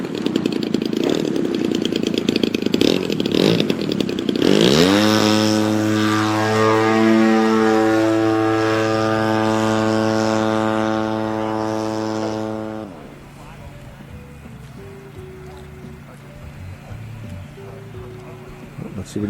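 An aerobatic propeller airplane, likely an Extra, passes at a spot landing competition, its loud buzzing engine sweeping down in pitch as it flies by, then fading to a distant drone.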